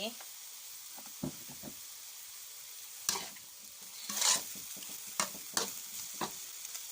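Thai holy basil (kaprao) stir-fried dry in a pan with oyster sauce and Nguan Chiang sauce: a steady hiss of sizzling oil broken by sharp spatula scrapes and clanks against the pan, close and fairly loud.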